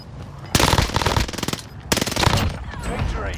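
Two rapid bursts of automatic fire from a Cooper carbine in the video game Warzone, each a loud, fast rattle of close shots about a second long, separated by a short pause.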